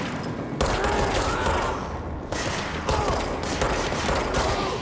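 Heavy gunfire in the Control video game sounds in loud, dense volleys with booming impacts, cutting off briefly twice before resuming, with no voices over it.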